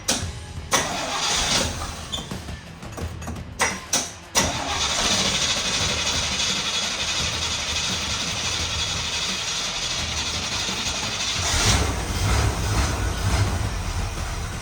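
A 1956 car engine cranks with several short bursts, catches and settles into a loud, steady idle that continues close by, with no choke fitted.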